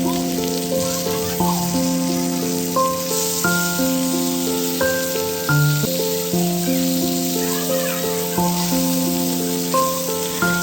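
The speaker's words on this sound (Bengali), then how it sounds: "তো এখানে সবগুলো মাছ ভাজা হতে দিয়ে দিয়েছি।" Fish fry in a pan in a home kitchen, a steady sizzle running under loud melodic music that plays throughout.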